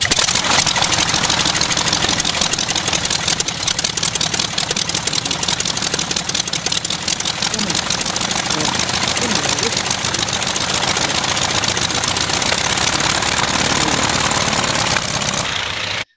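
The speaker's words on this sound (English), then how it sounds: "Here's a chance to hear Throttle idle." A floatplane engine idling at throttle idle, a loud steady close-up drone with a rough, knocking pulse that holds nearly unchanged for the whole stretch.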